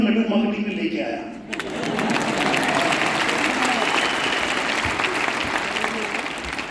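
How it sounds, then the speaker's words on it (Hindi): Audience applause after a speaker at a Vestige network marketing achievers event fills the hall steadily for several seconds, following a short stretch of talk at the start. "ताली बजाने की जरूरत नहीं"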